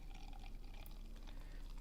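Beer pouring into a glass, a steady continuous liquid rush with a faint fizzing wash, close and alone for under two seconds.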